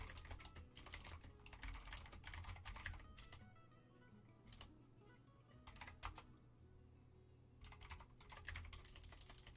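Bursts of computer keyboard typing, fast clicky keystrokes separated by short quiet gaps, close and fairly loud.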